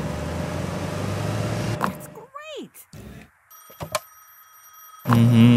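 A telephone rings in Gas Station Simulator 2024 with a few short, bright rising tones after a noisy stretch, then a steady electronic ring tone, ending abruptly in a louder burst of low sound.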